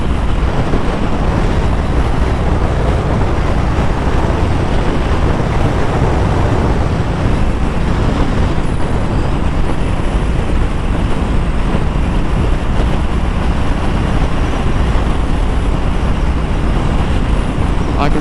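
Indian Scout Rogue motorcycle cruising at highway speed around 3,500 RPM beside an 18-wheeler, a steady loud roar of engine and wind rush with road noise throughout, no voices.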